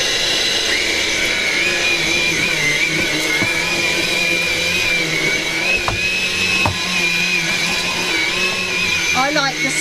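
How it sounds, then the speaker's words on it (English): A vacuum cleaner in boost mode with its rotary brush bar running drones steadily on carpet, loud and close with a high whine throughout, while a voice talks over it. "I will use the boost mode, which will give me extra power suction, and then I will put the brush bar rotary on"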